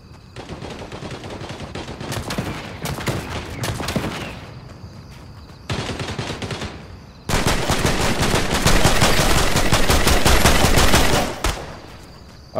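Rapid automatic gunfire in the video game Fortnite, fired in long loud bursts separated by brief lulls, the final burst the densest and most sustained.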